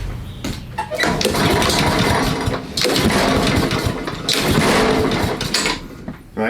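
A Honda small engine runs after a carburetor repair, a loud rough chugging drone with uneven knocking pulses that dips briefly and then continues through the clip.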